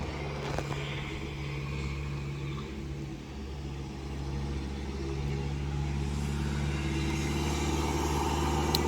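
Modified Toyota Vigo pickup driving by on a hilly road, a steady close engine rumble that builds slightly toward the end with faint voices in the background.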